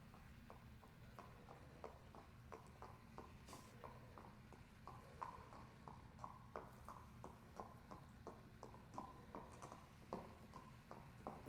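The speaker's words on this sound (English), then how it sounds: "it sounds like this horse is right here in the building" Steady clip-clop of a horse's hooves walking in a Sherlock Holmes versus Jack the Ripper video game, an even rhythmic trot heard faintly and close, without talk.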